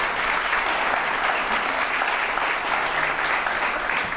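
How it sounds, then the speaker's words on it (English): Steady, dense applause from an audience at a city's State of the City address, loud and sustained throughout with no one speaking over it. "that deserves a round of applause"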